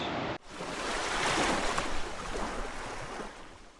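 Ocean surf washes in close by at Swakopmund, Namibia, a broad roaring swell that rises and slowly recedes, with some wind buffeting after an abrupt cut at the start.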